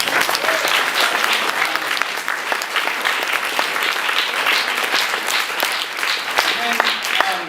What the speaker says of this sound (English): I want to applaud them as well